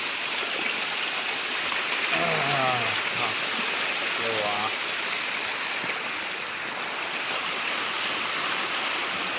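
A river runs full after rain in the Gir area, a steady broad rush of flowing water that fills the scene without pause, while a person talks over it now and then.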